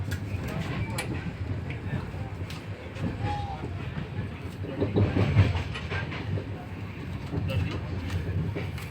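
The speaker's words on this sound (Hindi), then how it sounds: "एक घंटे से ट्रेन बहुत स्लो ही चल रही थी, अभी जाके ट्रेन ने कुछ स्पीड पकड़ा है।" The Dehradun Shatabdi Express rolls at speed, giving a steady rumbling rail roar with faint rhythmic clicking of wheels over track joints inside the carriage, loud and continuous throughout.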